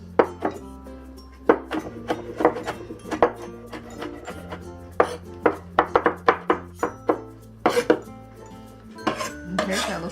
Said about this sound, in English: we'll mince up all these ingredients. Start with the bamboo shoots